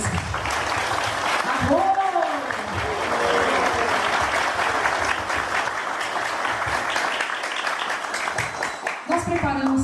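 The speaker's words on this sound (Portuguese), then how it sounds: "eu quero uma salva de palmas para vocês que confiaram nesse processo" A crowd at a pre-ceremony talk for an ayahuasca ritual applauds for the participants, steady dense clapping filling the space with voices and cheers rising over it, including a shouted exclamation.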